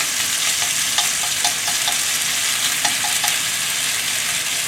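Marinated beef, coated in beaten egg and cornstarch, stir-fries in a hot frying pan, giving a steady loud sizzle with scattered crackles and spits throughout, no talking.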